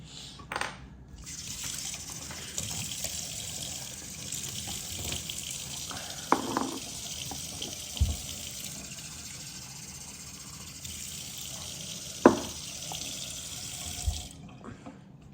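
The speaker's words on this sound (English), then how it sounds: "fill the test tube to the top with sample" Well water runs from a tap in a steady close stream, with a few clinks and knocks as a test tube is filled with the sample. The flow starts and stops near the beginning and end.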